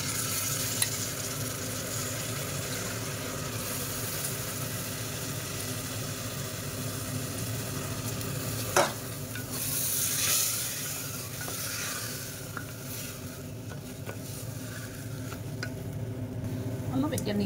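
Rice fries in a pan for pulao while a spoon stirs it now and then, a continuous close sizzle with occasional scrapes and clinks, and a low mechanical hum running underneath.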